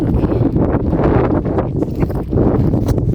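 Strong wind buffets a desert campsite near Sedona, Arizona, with a loud, continuous roar and gusty rumbling against the microphone for the whole stretch, dipping briefly before surging again.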